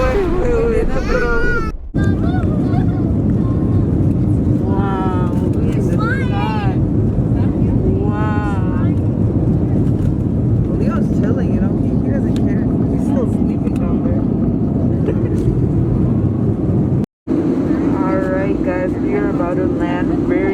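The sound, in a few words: airplane cabin noise during descent before landing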